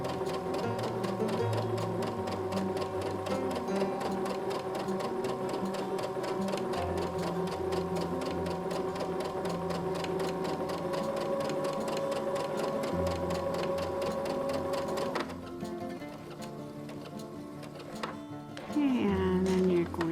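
A sewing machine runs steadily, stitching a fabric face mask with a fast, even mechanical rhythm, pausing briefly near the end before restarting; no one speaks.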